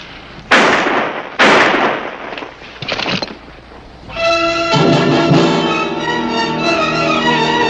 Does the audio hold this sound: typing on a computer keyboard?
no